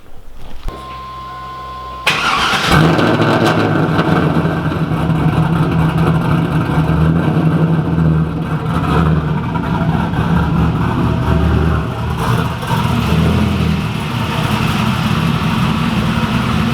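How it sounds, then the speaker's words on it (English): A car fitted with a UMI adjustable torque arm starts up with a sharp burst, then its engine rumbles and revs steadily for a launch test on the street, staying loud and close throughout. "We're going to go out, test the car a little bit, and see what it does launching it on the street."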